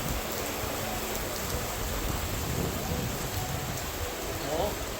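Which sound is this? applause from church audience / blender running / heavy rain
heavy rain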